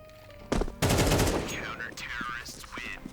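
Gunshots in Counter-Strike on the Mirage map: a sharp shot, then a rapid loud burst of automatic fire, followed by fainter game effects and scattered clicks.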